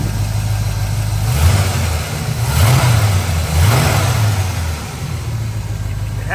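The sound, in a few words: V8 engine revving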